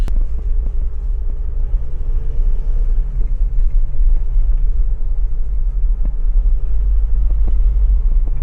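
A Mitsubishi Pajero Sport SUV drives off-road over a badly broken road, heard as a loud, constant low rumble from inside the cabin with scattered knocks and thuds from the rough surface.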